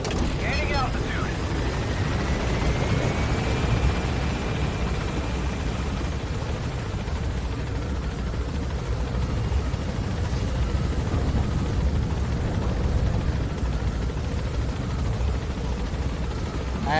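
A helicopter in Metal Gear Solid V gains altitude with a loud, continuous rotor and engine drone that stays steady throughout, while a person talks faintly over it.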